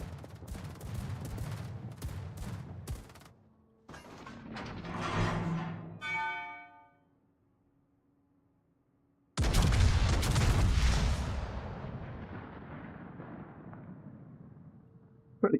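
Naval guns firing at a destroyer in World of Warships, heavy booming salvos in two loud bursts with a rumbling tail, a ringing metallic decay between them, and a fading roar at the end.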